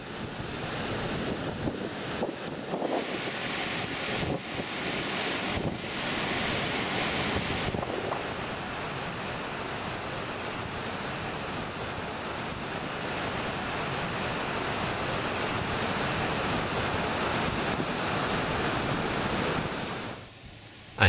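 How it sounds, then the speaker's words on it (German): The Paine waterfall in Torres del Paine National Park roars as a steady, broad rush of falling water, loud and continuous with wind buffeting the microphone and no voices. "Im Nordosten des Torres del Paine Nationalparks liegt der Paine Wasserfall, wohl der schönste und imposanteste Wasserfall,"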